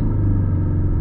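Car engine pulling hard in second gear while climbing a steep hill-station road, a loud, steady low rumble with a droning hum, close and continuous.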